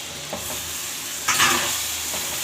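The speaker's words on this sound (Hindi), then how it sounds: "अब इसमें टमाटर शामिल कर दूंगी।" Chopped tomatoes tipped into a pan of chicken liver masala set off a brief burst of sizzling and stirring, rising sharply midway over a steady background fry, with no talking.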